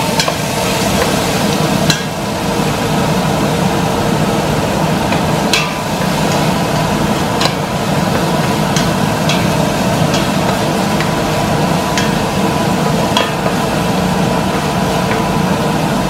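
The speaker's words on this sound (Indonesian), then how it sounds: "Digongseng sampai wangi." Chopped garlic and shallots are stir-fried in a pan, with a steady, loud sizzle and occasional scrapes and clicks of a utensil against the pan throughout.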